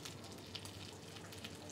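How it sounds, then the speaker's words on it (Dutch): Duck breast fries skin-side down in a pan over moderate heat, its fat rendering out. A steady, soft, close sizzle crackles continuously with no talk over it. "Zo gaan we die ongeveer een 10 minuten op de huid bakken."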